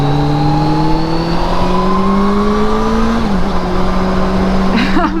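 A Kawasaki Concours 14 motorcycle pulls hard under acceleration, its loud, smooth engine drone climbing steadily in pitch, then dipping briefly at a shift before climbing again, heard from the rider's seat with wind rush.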